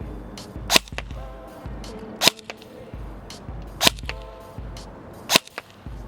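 Four sharp airsoft shots from an X9 firing .25 BBs outdoors at a target about 10 meters away, each a crisp snap with a short impact tail, spaced roughly every one and a half seconds over faint background noise.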